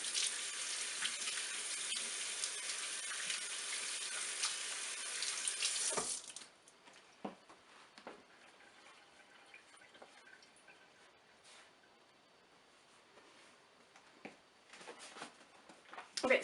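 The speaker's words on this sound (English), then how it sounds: "I will wash my hands" Running tap water splashing into a sink as hands are washed, a steady hiss for about six seconds, then the flow stops, leaving faint drips and small handling sounds in a quiet room.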